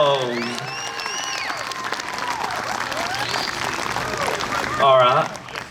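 Crowd applause for fire and police department teams at an outdoor BBQ competition, steady clapping mixed with voices and a brief louder burst near the end.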